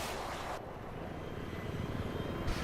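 A video-game helicopter flies steadily with a continuous broadband rotor and engine roar, loud and unbroken throughout, the top end briefly dulling in the middle.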